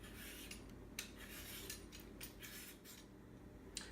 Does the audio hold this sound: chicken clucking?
no